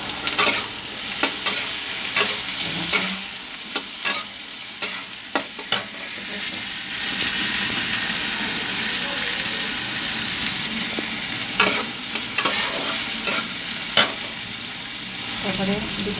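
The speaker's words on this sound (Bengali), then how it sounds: "জিরে দিয়ে আলুটা পুরো লাল লাল করে ভেজে নিলাম, তার উপর পেঁয়াজগুলো দিয়ে দিলাম।" Potatoes fried with cumin, topped with onions and stirred in a pan: a continuous close sizzle broken by repeated scraping and clacking strokes of a spoon against the pan.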